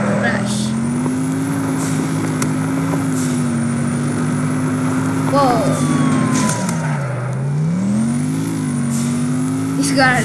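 Car engine from the Roblox game Car Crushers 2, a steady droning hum whose pitch rises, dips sharply and climbs again as the vehicle accelerates and slows, continuous and fairly loud throughout.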